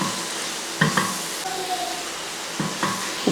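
Onions frying in a pan give a soft continuous sizzle while a spoon stirs them, with a few light scrapes and knocks against the pan, heard close.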